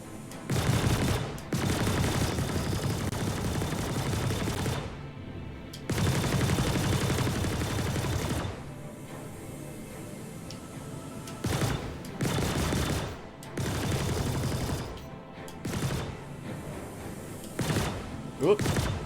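Bursts of ship weapon fire in the space combat game Star Citizen, several sustained rapid volleys of loud gunfire separated by short pauses, with quieter engine hum between them.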